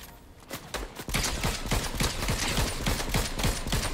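Rapid bursts of Fortnite gunfire, a dense string of sharp repeated shots firing close and loud in quick succession for most of the stretch, with no talk over it.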